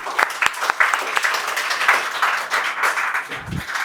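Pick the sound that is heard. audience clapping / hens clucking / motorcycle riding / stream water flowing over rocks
audience clapping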